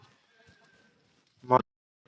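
A single short, close horse neigh in the Red Dead Redemption 2 video game breaks out mid-clip, with faint game ambience before and after it.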